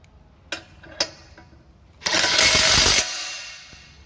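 A Makita TW007G 40Vmax impact wrench fastens at speed 4. Two sharp clicks come first, then a loud, dense hammering burst lasts about a second, close and alone.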